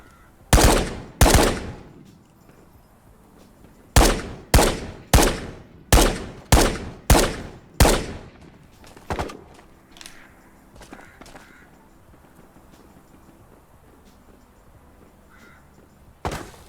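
Gunfire in the video game Ghosts of Tabor: two loud close shots, then a rapid run of six evenly spaced blasts, then fainter scattered shots and one final loud report.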